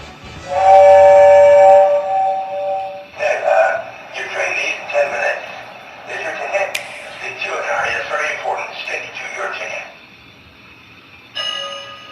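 Hogwarts Express model train starting off, a steady whistle-like tone at first, then a bright mechanical whir and clatter with a running rhythm, close and fairly loud, with an excited voice talking over it.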